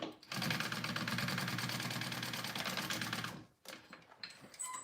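A sewing machine stitches a wallet seam in a fast, steady, close mechanical run of about three seconds, stops abruptly, then a few handling clicks and rustles follow.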